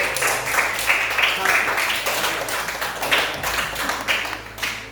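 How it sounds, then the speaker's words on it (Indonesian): Applause for a group of students in a classroom, a steady wash of many hands clapping that lasts throughout, with voices talking underneath. "Oke, tepuk tangan buat"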